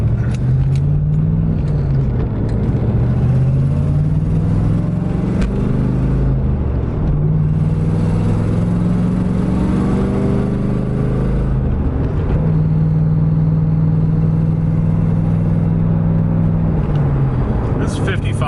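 A Chevrolet IROC-Z fitted with functional hood heat extractors picks up speed on the road. A steady engine drone rises and falls in pitch as it accelerates, under continuous wind and road noise heard from inside the car.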